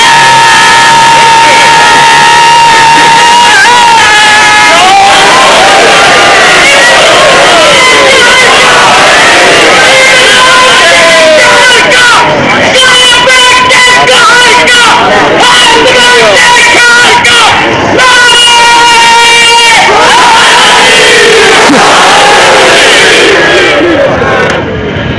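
A large crowd at a religious gathering roars in loud, sustained chanting and cheering, voices massed together with rhythmic shouted slogans rising and falling throughout.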